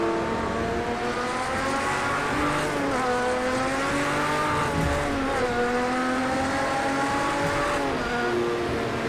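A 1970s race car at the 24 Hours of Daytona in Project CARS 2 in difficult conditions, its engine droning and revving continuously with rising and falling pitch through gear changes, loud and close, with tire noise underneath.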